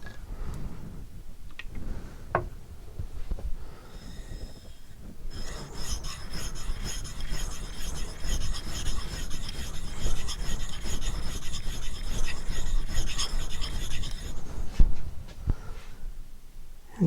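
Knife sharpened on an Arkansas hard stone, a close raspy scraping of blade on stone: a few isolated strokes, then a continuous run of rapid back-and-forth rubbing that stops, followed by a couple more strokes.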